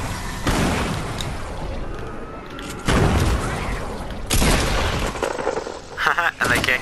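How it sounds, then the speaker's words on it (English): Shotgun blasts in the video game Fortnite, three heavy booming shots spaced a second or two apart, each loud with a rumbling tail, mixed with game noise and some voice. "They just keep dropping me shotgun shells and I keep using them."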